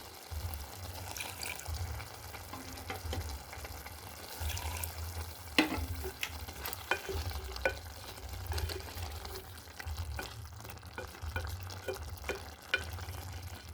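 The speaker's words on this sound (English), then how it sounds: "Let's cook our veggies." Okra and green vegetables cook in a pan with a soft, steady sizzle and occasional scraping stirs, over a low rumbling background hum; nobody talks.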